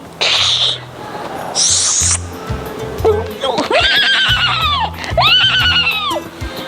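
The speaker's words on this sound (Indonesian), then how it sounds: "Kudanya terjerembab. Kuda Suraqah terjerembab." A horse whinnies loudly twice in long, rising-and-falling neighs as it stumbles and falls, with other animal calls and background sound effects around it.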